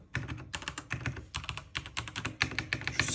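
Budget mechanical keyboard keys clack in quick irregular bursts, crisp and close, with brief pauses between groups of presses.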